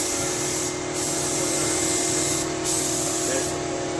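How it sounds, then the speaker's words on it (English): Spray gun laying primer onto the body of a 1992 Honda Prelude SiR VTEC BB4 under restoration; a loud, continuous close-up hiss with a couple of brief dips as the gun moves across the panel. "Even while it's still spraying."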